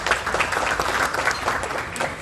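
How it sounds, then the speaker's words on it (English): Applause from guests at a business dinner reception for the Villa Blanca service staff, a steady burst of many hands clapping that holds for a couple of seconds, with a faint murmur of voices underneath. "If we can have like a big round of applause, a bit of gratitude to the service of the Villa Blanca"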